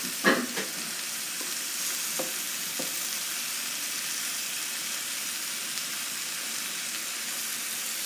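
Chicken browns in a roaster, a continuous even sizzle at moderate level with a few soft utensil taps near the beginning.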